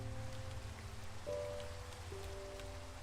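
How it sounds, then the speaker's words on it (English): Rain falls in Minecraft hardcore survival as a soft, steady patter with a few low tonal hums layered underneath, even and continuous throughout. "I am glad it's raining, though. Gotta love the rain sounds."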